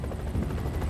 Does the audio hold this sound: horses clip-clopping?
no